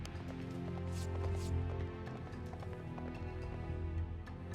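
Horse hooves gallop in the real-time strategy game Battle Realms, a steady run of close clip-clop beats over continuous game music.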